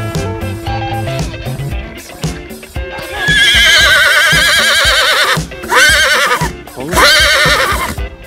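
On a backstage film set for a Cossack story, a horse whinnies loudly in long, quavering neighs, two or three times in the second half, over steady background music.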